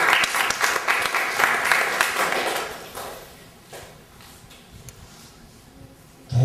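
An audience at a music therapy lecture claps warmly for the musicians, a loud, thick round of applause that thins out and fades over a few seconds, leaving quiet room noise before a sudden burst at the end.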